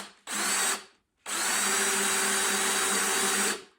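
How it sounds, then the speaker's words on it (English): A power drill whirs loudly in two bursts, a short spin then a longer sustained run, its motor pitch steady as it bores into a ukulele's wood. "I'm going to drill down to where the tape is"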